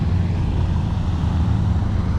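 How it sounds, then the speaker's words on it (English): Cars roll into a charity car meet at a stadium, heard as a steady, moderately loud low engine and tyre rumble that holds evenly for a couple of seconds with no talk. "Cars coming."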